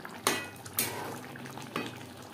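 A spoon scrapes and clinks in a pan while garam masala powder is stirred into simmering gravy for fish-head kalia. There are three distinct metallic knocks over a soft bubbling sizzle.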